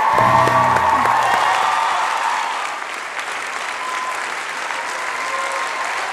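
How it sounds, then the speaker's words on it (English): Steady applause from a school dance show audience after a rumba performance, clapping loud at first and then settling to an even patter, with a brief musical tone fading underneath at the start. "Let's give all our dancers a round of applause."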